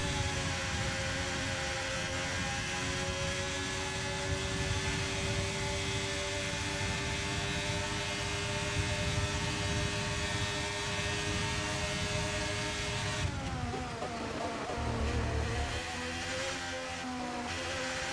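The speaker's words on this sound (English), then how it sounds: "Listen to them gears." A Formula 1 car engine in F1 23 screams at a steady high pitch, then the tone breaks and jumps as the gears shift near the end, with no voices.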